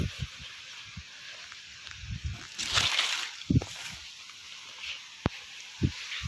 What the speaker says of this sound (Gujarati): પાણી હાલતું થઈ ગયું